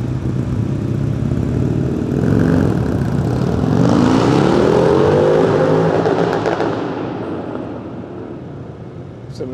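A Triumph Rocket 3 motorcycle roars loudly on an indoor drag race practice run, its engine note rising and shifting as it launches, then fading away near the end.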